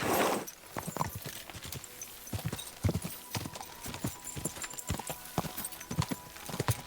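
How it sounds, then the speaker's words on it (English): Horse hooves clop in a quick, steady rhythm on hard ground in the video game Kingdom Come: Deliverance II, with a brief whinny-like sound at the start. "Call my horse, buddy."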